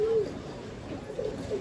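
Pigeons, sold as breeding high-flyer stock at a market in Dhaka, coo softly in low repeated notes, faint against a steady background hum, with a longer call at the start and shorter ones near the end.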